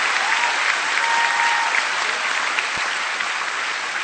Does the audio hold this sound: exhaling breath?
no